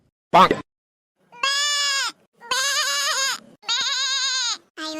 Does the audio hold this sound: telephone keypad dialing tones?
no